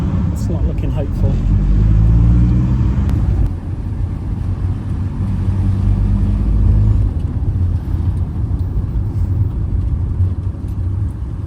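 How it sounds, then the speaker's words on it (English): Cars passing along a road, heard from inside a van: a continuous low rumble swelling and fading as vehicles go by, with voices talking over it at the start. "There's still a lot of cars along here."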